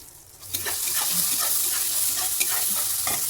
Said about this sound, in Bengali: এটা হালকা করে ভেজে নেব